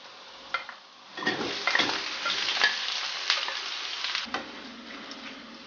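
Chicken pieces dropped into hot oil with garlic and onion in a pan, sizzling and frying steadily with occasional stirring and clatter of a utensil against the pan.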